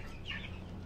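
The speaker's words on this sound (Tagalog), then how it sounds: "Inahin ng organic na manok." An organic hen on a farm gives a short, faint cluck, a single soft call over quiet background noise.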